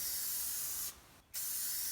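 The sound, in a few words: spray paint sprayed onto trail camera camo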